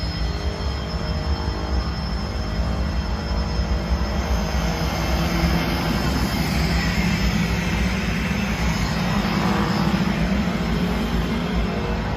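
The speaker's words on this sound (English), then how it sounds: "Looks like our jet's just coming back." Jet aircraft passing back overhead, a broad, steady roaring rush that swells gradually and stays loud and continuous for several seconds, heard outdoors without talk.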